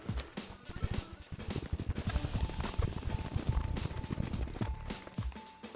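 Horse hooves clip-clop at a steady galloping rhythm during a ride in Red Dead Online, close and continuous under ambient game sound, with a faint mechanical ratcheting and a brief whinny-like tone.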